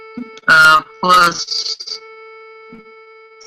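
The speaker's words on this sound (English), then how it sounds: "Those are the frequencies that are mixed together to give you the dial tone." A steady telephone dial tone made of 350 and 440 hertz mixed together hums continuously underneath a person talking briefly at the start, staying even and unbroken to the end.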